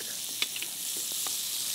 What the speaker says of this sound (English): Now I'm going to take the onion, and we are going to saute the onion.